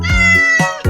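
A cat meowing loudly and close by, three distinct tonal meows in quick succession, the first drawn out and the last two shorter.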